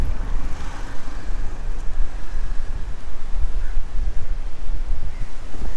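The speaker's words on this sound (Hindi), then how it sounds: "सो ये है दानापानी बीच हमारे मुंबई में, मलाड में है ये।" Wind and surf at Danapani Beach in Malad, Mumbai, a steady broadband roar with rumbling low gusts buffeting the microphone, continuous and fairly loud throughout with no voices.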